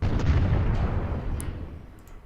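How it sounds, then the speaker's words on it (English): In the strategy game Imperialism II, a single heavy artillery blast booms out loud and low, then rumbles away in a long fading tail, with faint crackles near the end. "The artillery is gonna keep blasting away at his artillery."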